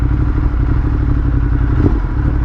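A Ducati Monster 1200S sits still with its engine running loud and close, a steady deep throbbing drone with a faint clatter and no talk over it.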